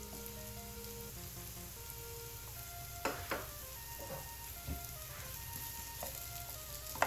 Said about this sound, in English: And we put the onions in the pan, and we're gonna saute it for about 20 seconds.